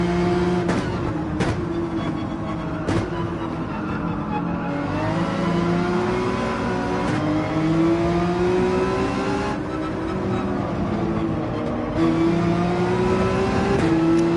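Race car engine in Gran Turismo 7 at the Spa circuit, revving loudly and continuously with rising and falling pitch through gear shifts, alone throughout.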